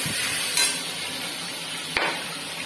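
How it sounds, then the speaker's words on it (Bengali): Cumin, coriander, ginger and green chili paste frying with potatoes in a pan, a continuous close hiss with two brief scraping stirs, no voices. "এর ভিতরে আমি জিরে ধনে আদা কাঁচা লঙ্কা পেস্ট করে রেখেছিলাম, ওটা ঢেলে ভালো করে কষিয়ে নিতে হবে।"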